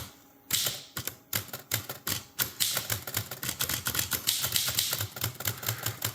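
An Underwood Portable three-bank typewriter clacks close by in quick irregular bursts of backspacing and carriage movement, sharp metallic taps piling up rapidly over about six seconds.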